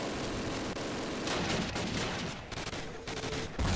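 Rapid gunfire from the first Call of Duty game, a dense run of loud, sharp bursts packed closely together over a constant battle din, with no talking.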